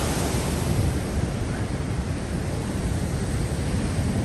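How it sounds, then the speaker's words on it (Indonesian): Strong ocean waves breaking at a Sydney surf beach make a dense, continuous roar of surf, loud and steady, with wind buffeting the microphone and no talking. "Ini ombaknya lagi bener-bener kenceng banget ya, luar biasa ya"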